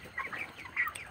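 Broiler chickens, 27 days old, cluck on a poultry farm at night, several short close calls in quick succession over a quiet background.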